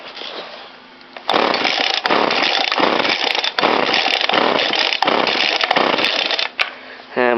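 A small engine on a motorized bike runs rough at high revs, with a loud buzzing drone broken by repeated short cuts and stumbles, close to the listener.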